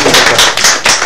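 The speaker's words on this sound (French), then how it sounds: "Donc on applaudit pour ces enfants." A short burst of close, loud applause, several quick claps for the children at an event.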